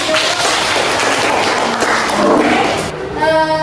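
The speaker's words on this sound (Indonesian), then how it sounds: "silakan tepuk tangan" Classroom applause after a high school student group's bioplastic project presentation; a burst of clapping from students fills most of the clip, fading near the end as a tonal sound and a voice come in.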